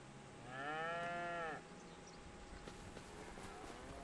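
A single cow on an Iowa farm moos once, a long low call rising and falling for about a second, moderately near, followed by quiet outdoor ambience.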